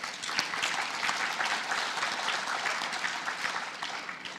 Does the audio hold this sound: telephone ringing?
no